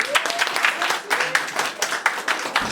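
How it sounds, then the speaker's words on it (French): Scattered applause from guests at a dowry ceremony in Le Mans, uneven claps rising and falling under ongoing talk and chatter. "Applaudissez."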